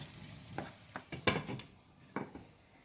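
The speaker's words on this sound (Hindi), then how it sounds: "इसको शामिल करके अच्छी तरह हिलाएं और दोबारा पकने के लिए रख दें" Yogurt is stirred into a simmering fish spaghetti sauce in a pan, giving a handful of close, uneven spoon scrapes and knocks over a soft sizzle, with no voices.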